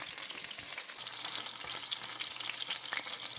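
Chicken patty rings with bell pepper fry in a pan, a steady dense crackling sizzle that stays loud and even throughout, with no voices over it.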